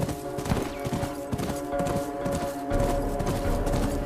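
Horse hooves clatter in quick repeated clip-clops in The Last of Us video game, set against a humming game soundscape, with a brief neigh amid the steady galloping.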